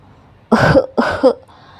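An elderly grandfather in a kitchen gives two harsh, close coughs in quick succession, loud and alone.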